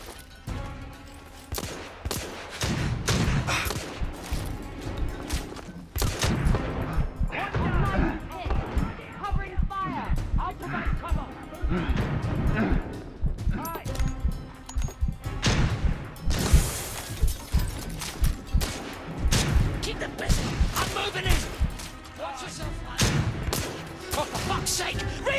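Shotgun gunfire in The Order: 1886, a Victorian-era shooter, with bursts of shots and crashing impacts throughout a busy firefight while characters talk over the action.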